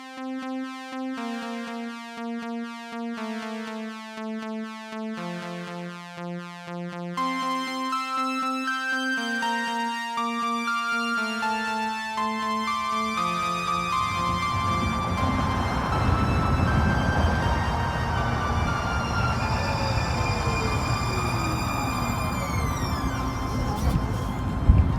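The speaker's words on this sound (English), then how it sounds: "Cue the theme music, please." Theme music plays loud and continuous, a melodic tune that swells into a dense, rising electronic sweep with siren-like tones.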